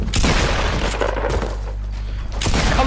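Heavy, continuous video game gunfire and booming blasts, loud and dense, with a short lull in the middle before the barrage picks up again.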